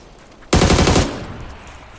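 Rapid automatic gunfire in a shooting video game, a loud dense burst lasting about half a second, then a fading tail.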